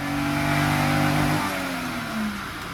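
A vintage car engine modernized to about 142 horsepower revs during a test run, a loud steady roar with rising and falling pitch, close and alone without voices.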